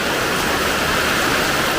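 Summer rainwater runs off in a steady, loud, unbroken rush of watery noise, with no voices.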